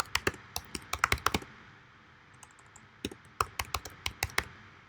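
Typing an address on a computer keyboard, with close, crisp key clicks in quick irregular bursts separated by a short pause, quiet and alone.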